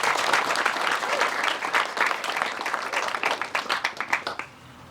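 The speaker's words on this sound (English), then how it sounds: "Big round of applause." An audience applauds at a police athletic league event, a loud wash of many hands clapping that thins into scattered individual claps before fading.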